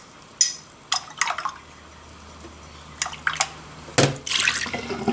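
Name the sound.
paintbrush bristles rubbed on the bottom of a water container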